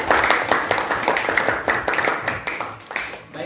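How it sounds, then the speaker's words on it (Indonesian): A class of students applauds at the end of a teaching practice session, a dense, steady patter of many hands clapping close by for several seconds. "aplaus buat kalian"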